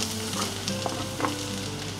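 Garlic sizzles steadily in a hot pan, a close, continuous frying hiss with a few faint clinks of stirring and no talk.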